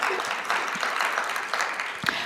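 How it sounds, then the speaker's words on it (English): Audience applause at a memorial program gathering, a steady wash of clapping from a seated crowd, moderately loud and continuous throughout with a faint voice or two underneath. "That really deserves applause."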